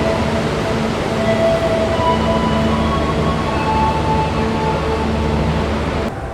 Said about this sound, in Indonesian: ini dia kereta api Ijen Express jalur 1 dan jalur 2 kereta api Mutiara Timur. Lokomotif merah.